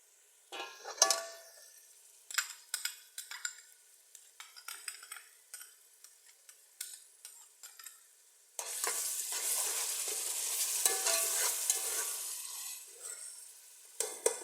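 A spoon scrapes and taps through browning onions in a pan for a chicken karela dish, then tomatoes drop in and a loud, sustained sizzle takes over, with no talking.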